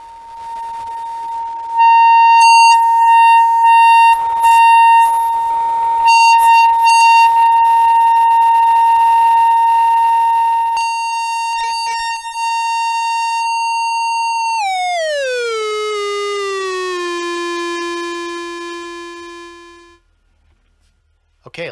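Synthesizer tones from the Dirty Laundry modular module with its high-low switch: a steady pure tone with harmonics, then bright bursts, then a long pitch glide downward into a lower buzzy tone before cutting off.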